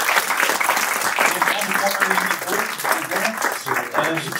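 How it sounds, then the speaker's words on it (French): An audience at an export business talk applauds a speaker, with moderate scattered clapping blended with people talking over it throughout. "On peut vous applaudir"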